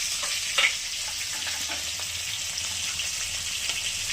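A hilsa fish head and dried chillies frying in white oil, giving a steady, even hiss of sizzling with a few faint pops and stirs.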